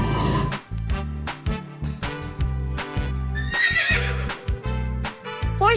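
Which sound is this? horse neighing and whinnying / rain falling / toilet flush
horse neighing and whinnying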